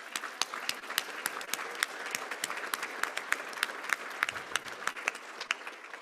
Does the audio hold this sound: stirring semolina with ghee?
no